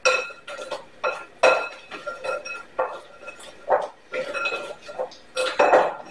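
Baguette pieces being tossed with olive oil in a bowl, a series of clinks and scrapes against the dish spaced through the clip, close and fairly loud with no talking.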